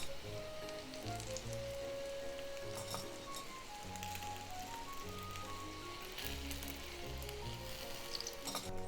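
Shrimp gyoza frying in hot oil give off a steady, dense sizzle and crackle that runs through the whole stretch, with a faint clink or two and soft background music underneath.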